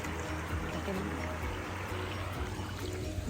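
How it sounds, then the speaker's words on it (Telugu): Steady rushing rainwater pours and trickles over a small weir, a continuous close wash of flowing sound with faint voices beneath. "ఈ వాటర్ వెళ్ళిపోయేదాన్ని మత్తడి అంటారు"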